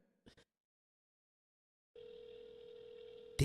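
Two faint clicks, then silence, before a steady telephone dial tone comes in mid-clip from a call that goes unanswered, ending with a sharp loud burst.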